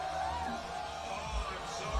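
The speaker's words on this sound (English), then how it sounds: "Listen to the crowd." Crowd at a powerlifting championship in Sheffield, a tense, steady murmur with scattered calls and whoops, fairly loud, with voices talking over it.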